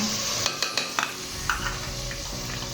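Chili, turmeric and coriander powders frying with tomatoes for bhindi masala, a steady close sizzle broken by a string of sharp spoon-on-pan scrapes and taps as the mixture is stirred.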